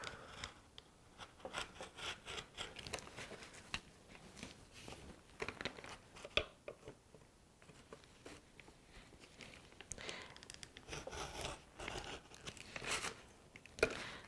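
Paper is cut by hand along a straight edge in mixed media work, with faint, steady scratchy snipping and rubbing that repeats close up and quietly.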